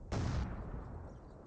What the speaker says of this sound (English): Oh, the barrage is right there.